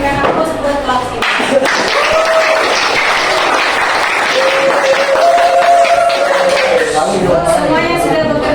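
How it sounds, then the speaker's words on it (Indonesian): A classroom of students bursts into loud, sustained applause that holds steady for several seconds, with voices calling out and cheering over the clapping. "Ibu akan memberikan aplaus buat kelas ini"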